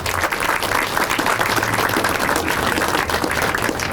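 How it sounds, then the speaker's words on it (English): A crowd at a press conference claps steadily and continuously, a dense wash of applause with a low hum underneath and no one speaking. "Will you all clap your hands and recognize them?"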